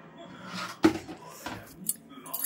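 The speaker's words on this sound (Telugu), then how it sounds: "ఓ పెడతాడు చూడు, మూత పెడతాడు చూడు" A child putting a lid on a container at home, with a sharp clink of metal or dish contact followed by a few lighter knocks, faint and close, while adults talk softly around it.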